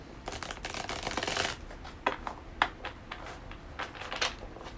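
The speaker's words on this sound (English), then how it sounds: "I'm making sure I shuffle really good." Cards are shuffled close by, a dense riffling burst followed by scattered soft slaps and flicks as the deck is handled.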